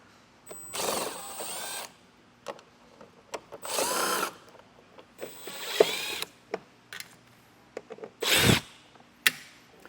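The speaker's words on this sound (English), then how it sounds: "Now we can start pulling out all these screws." A power drill runs in repeated bursts of a few seconds each while removing screws from the back of a vehicle's front bumper during an Aries TrailChaser bumper installation, with small clicks and handling noises between bursts.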